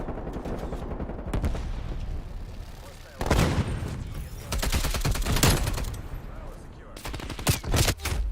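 Video game gunfire crackles in rapid bursts and volleys, loud and near, with short gaps between the strings of shots.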